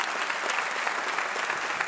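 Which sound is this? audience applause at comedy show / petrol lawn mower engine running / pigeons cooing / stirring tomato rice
audience applause at comedy show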